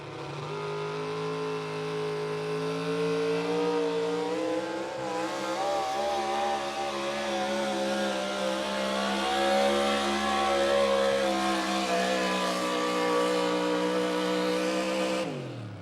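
Modified four-wheel drive pulling truck weighing 6,200 pounds on 34-inch pulling tires at a Wisner, Nebraska truck pull, engine revving hard and steadily climbing in pitch, loud and continuous for about fifteen seconds.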